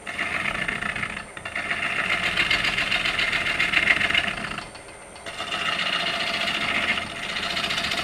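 A bowl gouge cuts wood spinning on a lathe, a sustained loud hissing scrape that breaks off briefly twice and then resumes, close by and with no voices.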